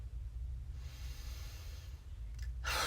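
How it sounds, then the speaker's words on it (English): A person draws a slow, deep breath as a soft, close airy hiss, with a louder, sharper breath noise bursting in at the very end. "I'm starting to do my deep breathing."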